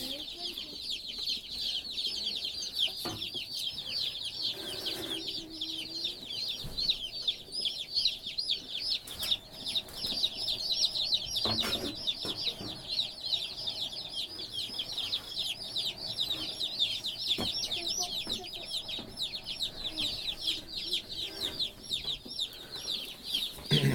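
Dense, steady high-pitched peeping of a large batch of newly arrived baby chicks being set into a warm brooder for pasture poultry, a continuous chorus filling the whole stretch with little else.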